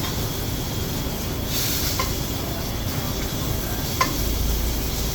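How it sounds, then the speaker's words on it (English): Beef steak sears in a hot pan with a loud, continuous sizzle and hiss, broad and steady, with a couple of brief sharper pops, heard close and without talk. "Now we are going to sear from both ends"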